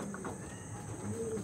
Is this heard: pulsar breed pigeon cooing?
yes